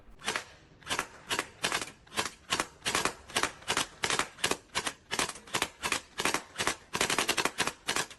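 A P90 gel blaster toy gun fires gel balls in rapid bursts, a fast string of sharp, evenly spaced clicking shots close by with no talking.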